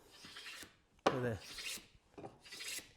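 A hand plane cutting a chamfer along a wooden edge, giving a few short, close rasping strokes with brief pauses between them, one stroke sharper and louder than the rest, with no talk.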